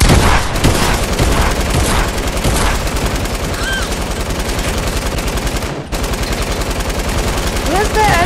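Rapid SMG fire rattles almost nonstop in a video game shootout, loud and dense bursts with a short gap before the firing resumes, with faint game sounds layered underneath.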